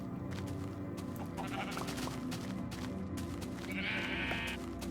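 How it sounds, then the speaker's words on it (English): A sheep in the Minecraft video game bleats once, a short wavering call rising near the end over steady background music and game ambience. "Ooh, sheep."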